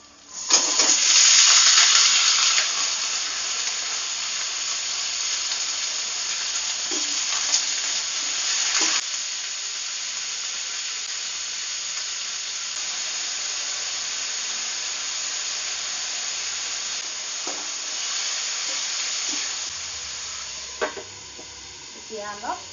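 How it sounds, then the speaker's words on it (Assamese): Kohlrabi, potato and tomato fry in hot oil in a pan, giving a loud sizzle at first that settles into a steady hiss with occasional stirring scrapes, and a faint voice near the end. "এইখিনি অকণ ৰঙা হোৱালৈকে ভাজিম।"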